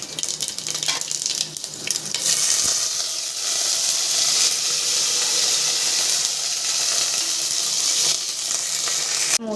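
Curry leaves hit hot oil already crackling with mustard seeds and dried red chillies while tempering a kootu curry, giving a steady, close hiss and sizzle that swells after a couple of seconds and holds without speech.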